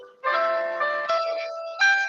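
A phone ringtone plays a bright electronic melody of sustained notes, starting abruptly and changing pitch every half second or so, close and clear in a quiet room during a fitness class.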